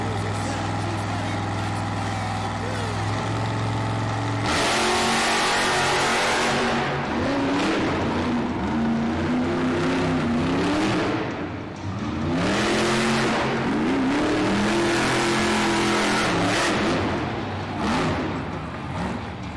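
The Monster Jam truck Megalodon roars around an arena track at a freestyle event, its engine revving hard in repeated loud surges and rising pitch sweeps, dipping briefly between bursts, with crowd ambience underneath.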